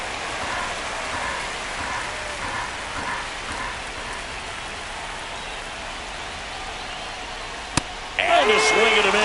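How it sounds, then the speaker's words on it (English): Steady rain pours down on a baseball field in MLB The Show 25, a dense, even hiss of drops holding throughout, with a sharp click near the end and a brief burst of crowd or game noise at the close. "the field's not going to be able to hold up if the rain gets any worse than this"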